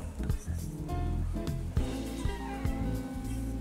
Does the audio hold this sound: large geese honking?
no